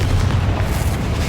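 Confringo blasting spell exploding in Hogwarts Legacy, a deep rumbling boom that fills the whole moment, loud and close with a sustained low-end roar and no voices.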